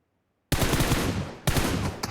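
Gunfire from PUBG Mobile bursts in suddenly after a moment of silence: a loud, rapid automatic volley, a brief pause, then a second burst, close and dominant.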